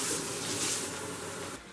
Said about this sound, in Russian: Наливаем стандартный литровый ковшик воды, помещаем его в центр плиты.